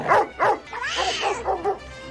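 Scooby-Doo, the cartoon Great Dane, lets out two quick, close barks, then a drawn-out, wavering, whining howl.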